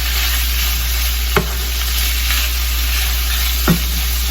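Sweet longanisa sausage fries in a pan for pancit canton, giving a steady close sizzling hiss broken by two sharp clicks of a utensil against the pan.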